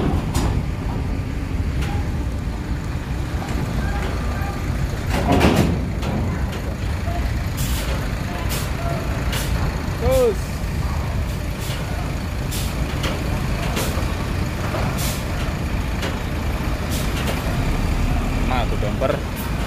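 A large coach bus creeps forward at a busy bus gathering, its engine rumbling loud and steady under crowd chatter, with sharp hissing bursts of air brake released now and then.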